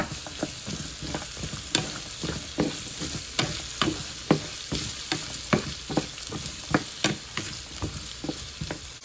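Onions for a jackfruit curry fry in a pan under a steady sizzle, while a spoon scrapes through them in quick, regular stirring strokes, roughly two or three per second.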